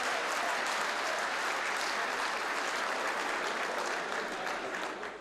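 Audience applause at an Urdu mushaira in Qatar, a dense, sustained clapping from a large crowd that fills the hall loudly and steadily, tapering slightly at the end, with no voices over it.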